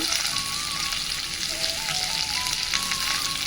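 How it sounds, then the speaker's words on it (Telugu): Cumin and coriander seeds sizzle in a pan while sambar is being made, a continuous bright crackle of frying that stays close and steady, with faint stirring and no speech. "ఇప్పుడు దీంట్లో జీలకర్ర వేసుకుందాం జీలకర్ర అండ్ ధనియాలు వేసుకుందాం"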